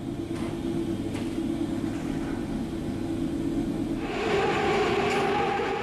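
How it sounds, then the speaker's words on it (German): An Intercity train pulled by two class 218 diesel locomotives departs Niebüll station on the Marschbahn, giving a steady low rumble that swells louder and brighter toward the end as it moves off. "verlässt der Intercity den Bahnhof Niebüll zur Fahrt in Richtung Hamburg"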